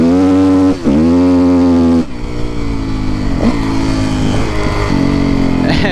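A Kawasaki KX450F dirt bike with a nearly bald rear tire grinds through a creek over rocks, its engine loud and close, revving and surging with the pitch dipping and climbing as the wheel spins.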